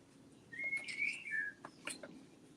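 A bird whistles a few bright chirps and a rising call, fairly faint, over a steady low background hum with no talking.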